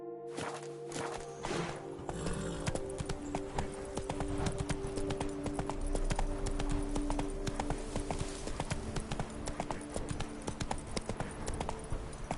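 A horse galloping in The Witcher 3: Blood and Wine on PS4, a fast continuous drumming of hooves that starts after a brief quiet moment and runs steadily with background game music.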